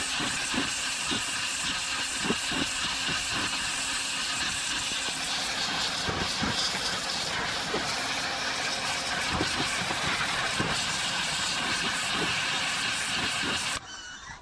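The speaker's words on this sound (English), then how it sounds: "you shouldn't really wash a hydraulic valve with a pressure washer" Pressure washer spraying a Ferguson T20 hydraulic control valve, a steady loud hissing water jet with irregular spattering pulses throughout, cutting off abruptly near the end.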